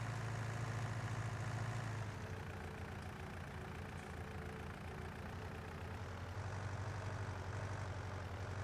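Tractor engine in Farming Simulator 19, pulling a fertilizer spreader, drones steadily and loudly with a heavy low rumble, shifting slightly in tone partway through as it keeps running without pause.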